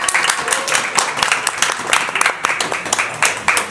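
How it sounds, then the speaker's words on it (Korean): A concert audience applauds at a K-pop singer's encore, a dense, continuous, close roar of clapping with sharp individual claps throughout. "박수 한번."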